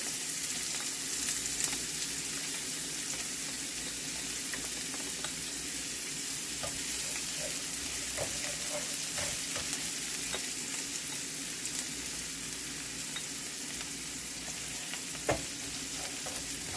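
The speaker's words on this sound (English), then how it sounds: "I'm just going to saute these lightly." Garlic sautés lightly in a pan for soup, a steady close sizzle with occasional stirring taps and scrapes, and no voices over it.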